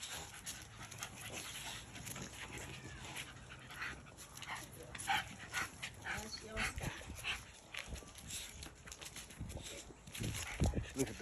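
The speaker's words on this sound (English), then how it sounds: "Littlest thing in the pack trying to beat on Stormy." A pack of American bully dogs plays outdoors, panting, whimpering and giving occasional short barks in irregular bursts close by, with people talking over them.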